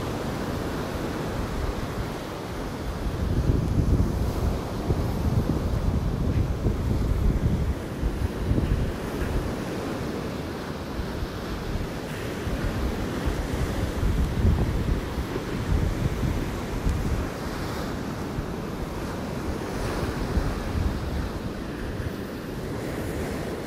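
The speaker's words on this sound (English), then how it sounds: "There's actually some really nice sized waves out here breaking over the sandbar." Ocean waves break over a sandbar off a beach, a steady roaring surf wash with rolling swells, mixed with gusty wind buffeting the microphone throughout, and no voices.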